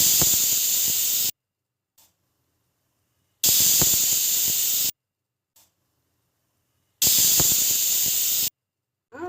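A pressure cooker whistle lets off steam in three loud, sharp hissing bursts, each lasting just over a second, separated by stretches of near silence.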